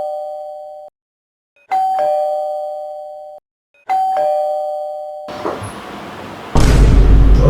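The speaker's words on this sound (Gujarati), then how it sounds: "ડોરબેલ વાગ્યો હોય એવું લાગે છે." An electronic doorbell chimes twice, each a clear two-tone ding-dong ringing out loud and close, followed by a burst of loud noise at the end.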